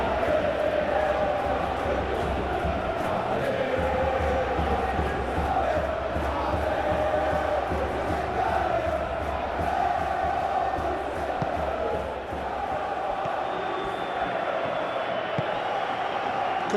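A dense stadium crowd roars continuously through a simulated Champions League football match in a video game between Atlético Madrid and Tottenham Hotspur, loud and steady with swelling chants, while a commentator's voice talks over it.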